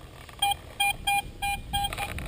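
A metal detector sounds over a penny buried a few inches down in brushy ground on a Lake Keowee island, giving a string of about six short, evenly spaced electronic beeps that are clear and close.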